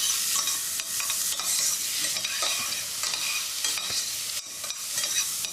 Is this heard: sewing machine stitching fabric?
no